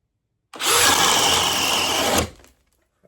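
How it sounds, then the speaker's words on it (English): DeWalt DCD805 drill in drill mode at speed 2, boring with a 1 3/8 paddle bit, one loud steady whine lasting under two seconds before winding down, heard close and alone. "Same 1 3/8 paddle bit, speed 2, and in drill mode"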